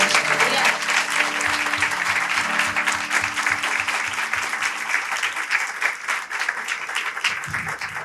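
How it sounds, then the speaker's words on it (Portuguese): Congregation applauding during a women's church gathering, steady dense clapping filling the room for the whole stretch, with a voice and music-like tones underneath early on. "Aplauda o nome de Jesus"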